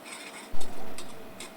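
A spoon scrapes and stirs onion, ginger garlic paste and green chilies in a pan, a loud thump followed by steady sautéing sizzle and a few metallic scrapes.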